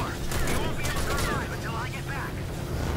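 Rapid gunfire in the sci-fi shooter game Spacelords crackles continuously as dense, loud bursts, mixed with game effects and a player's talking.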